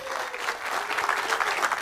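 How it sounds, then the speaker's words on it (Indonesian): A crowd at a Demokrat party gathering gives a round of applause for the media, a dense, continuous clapping that fills the space without pause. "Terima kasih, tepuk tangan untuk teman-teman media kita."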